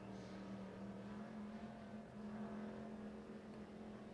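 A micro sprint race car runs its lap at East Bay Raceway, its engine a steady, fairly distant drone with a constant pitch for the whole stretch and no voices over it.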